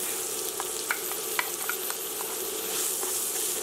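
Onion and garlic fry in olive oil in a pan, a dense, even sizzle close by with small crackles and stirring taps, no speech.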